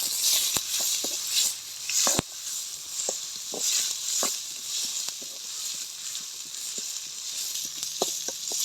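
Green chillies sautéing in oil for a mutton gravy, a steady bright sizzle with scattered sharp pops and crackles throughout, close and fairly loud, with no speech.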